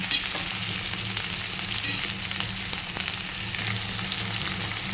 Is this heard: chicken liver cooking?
yes